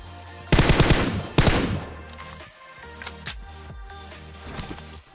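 Gunfire in a battle royale video game: two loud close bursts of automatic fire early on, then lighter scattered shots and game sounds over a steady low musical drone, with no talk.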